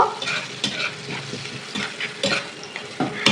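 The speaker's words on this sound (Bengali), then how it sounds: "এটা সুন্দরভাবে নাড়াচাড়া করে নেব" Vegetables with chili and turmeric fry in a pan under frequent stirring, giving a close crackling sizzle punctuated by repeated scraping and clacking strokes.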